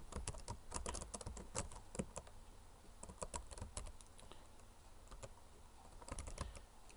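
Fast, irregular keystrokes on a computer keyboard entering a name into a web page, crisp close clicks in quick runs with brief pauses.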